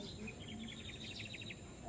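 Birds call and chirp in a quick run of short, high notes on a gloomy, rain-threatened morning outdoors, faint and somewhat distant over a steady hum of background noise.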